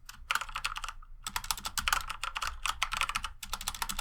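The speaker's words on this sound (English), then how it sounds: "If I can type correctly" Rapid typing on a computer keyboard while setting up a coding project, crisp key clicks in quick bursts with a short pause, close and clear with no voices.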